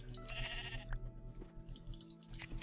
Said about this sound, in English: Oh my God, look at all these sheep.